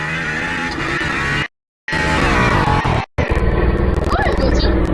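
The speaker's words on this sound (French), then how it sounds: "Oh, une voiture!" Car engine in a Roblox video game, a loud steady motor drone with revving, cut by two brief silent gaps, heard alongside talk.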